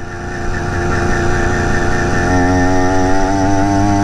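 A BT 100 motorized bicycle engine runs hard at speed on back roads, a loud, steady two-stroke buzz with a rising, wavering pitch throughout and no voices.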